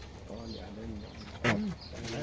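White pigeons coo in a steady, rolling series of soft throaty calls, fairly close, with a louder burst partway through.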